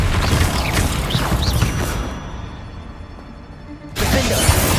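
The Descendo spell slams down in Hogwarts Legacy with a crashing, mechanical impact. The loud rumble thins out midway, then a second burst of crashing noise returns near the end.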